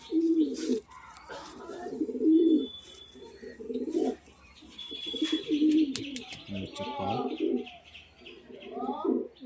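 Pigeons coo repeatedly and close by in low, throaty, rolling phrases, with a few faint chirps and tweets between the coos.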